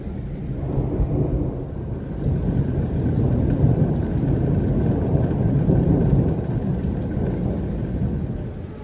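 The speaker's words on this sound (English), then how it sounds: "It has been thundering this whole time." Deep rolling thunder rumbles continuously over steady rain during a tornado warning in Fort Worth, Texas, swelling louder in the middle and fading slightly toward the end.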